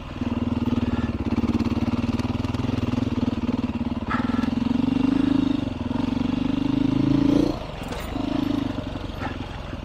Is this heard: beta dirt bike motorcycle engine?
yes